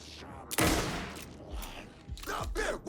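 Rifle shots in Alan Wake 2 boom several times, one loud close blast followed by a few more reports and thuds over a dark ambient bed.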